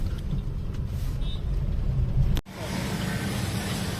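Heavy road traffic in Navi Mumbai heard from inside a car, a constant low rumble of engines and passing vehicles with an air-brake-like hiss, cut briefly by an abrupt dropout.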